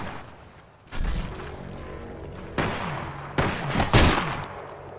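Gunfire bursts in an Apex Legends match, with a few loud, sharp volleys around one, two and a half, and three and a half to four seconds over a low, rumbling game-ambience bed.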